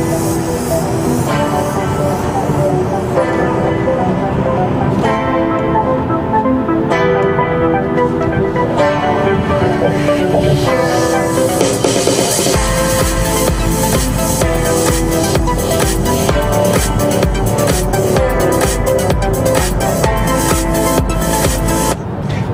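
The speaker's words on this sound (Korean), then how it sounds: "사운드 시스템은 보스인데요," Music plays through the Bose sound system inside a 2023 Hyundai Grandeur (Azera) 3.5 AWD, a dense, continuous mix with a heavier beat entering partway through, running steadily with no talk.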